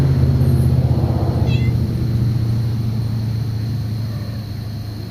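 Small kittens meow outdoors in a yard, thin high mews heard briefly over a low steady engine-like rumble that persists throughout.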